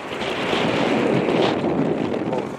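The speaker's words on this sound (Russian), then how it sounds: "Ветер дует" Steady, rushing wind on a harsh winter day of ice fishing buffets the microphone with a continuous broadband roar, loud and close throughout.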